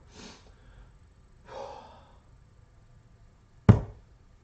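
A dart player takes two slow, breathy inhales and exhales, close and soft, then a sharp thud as the dart strikes the board.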